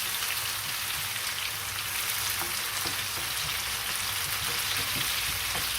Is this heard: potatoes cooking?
yes